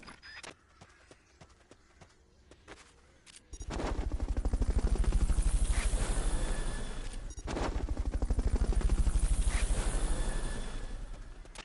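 A helicopter in Metal Gear Solid: Peace Walker kicks in abruptly, its rotor thrumming loud and steady in a dense low roar that dips briefly midway before resuming.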